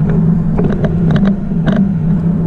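Audi SQ7 twin-turbo V8 SUV weighing 5,000 pounds accelerating hard, a steady loud low engine drone with rising boost and short higher-pitched whooshes on top, heard close from inside the cabin.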